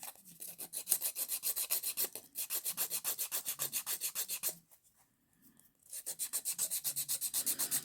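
Hand file rubbing back and forth across acrylic nails in quick, even rasping strokes, close up, with a short pause before the strokes resume.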